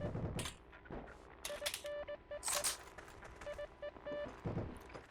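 Gunfire in the video game Heroes & Generals: bursts of shots and impacts come in irregular clusters over game sounds, with short tonal beeps between them and no talking.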